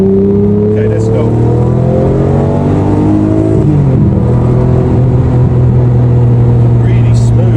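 A Lamborghini Murcielago SV engine pulls hard in Corsa mode, its note climbing, dropping sharply at a quick gear change near the middle, then building again; loud and close, heard from inside the car.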